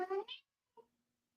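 A cat lets out one short, close meow, followed by a brief faint murmur and quiet.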